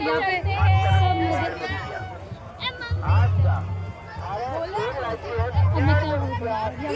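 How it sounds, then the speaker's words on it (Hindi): A dense crowd at a Pabuji Bhil community fair (mela) in Pali, Marwar: constant babble of many voices, with children calling out and people talking close by over a low, pulsing hum. "बहुत ज्यादा भीड़ है"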